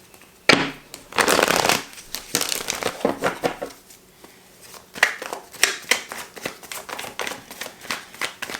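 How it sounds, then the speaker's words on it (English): Tarot cards riffled and shuffled in quick bursts, a loud crisp flurry early on followed by shorter snapping shuffles, close up with no talking. "One more shuffle."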